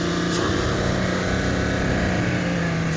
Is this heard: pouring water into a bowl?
no